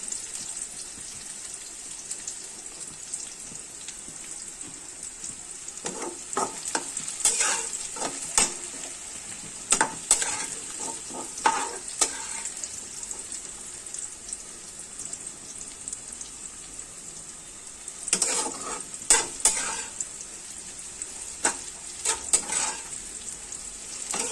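Onions fry in oil for mutton biryani, a steady close sizzle with bursts of crackling and spatter from stirring or lifting the onions, with no voices throughout.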